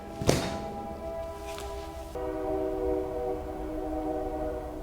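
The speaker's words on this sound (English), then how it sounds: "the train is so loud" A train rumbles nearby while its horn sounds in long, steady tones, preceded by a sharp clank, with no one talking.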